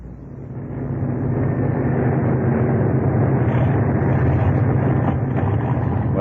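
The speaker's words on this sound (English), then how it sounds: "What's that noise? Sounds as if something's gone wrong. One of the engines." A loud, droning aircraft engine roar swells in and holds steady, a rough, labored hum from a malfunctioning engine in a radio drama, with no voices.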